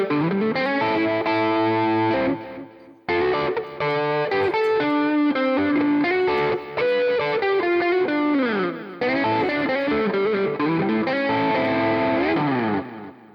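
A Fender Telecaster partscaster electric guitar played on its middle pickup with some reverb, ringing out chords and melodic runs in loud, sustained phrases with brief pauses between them.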